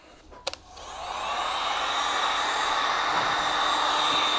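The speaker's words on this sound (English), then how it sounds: "So I'm using a Seek 1 heat gun from Amazon." A Seek heat gun warming a plastic jet sled wear bar, starting with a couple of clicks and then a steady, close blowing whoosh that builds and holds to the end.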